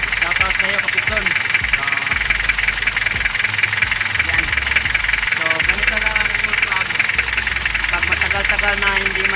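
A car engine idles steadily nearby with an even, continuous running hum and light knocking, while someone talks over it throughout.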